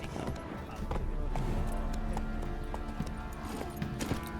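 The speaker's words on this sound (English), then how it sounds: "Run, Roach" Roach, a horse in The Witcher 3 video game, gallops with a quick, even clip-clop of hooves under a game soundtrack, close and moderately loud throughout.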